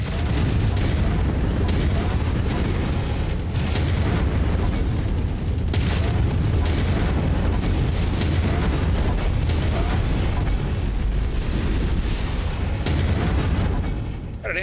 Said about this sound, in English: Got an ammo explosion, it looks like